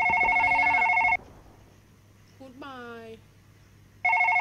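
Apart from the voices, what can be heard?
telephone ringing in the video game One Last Night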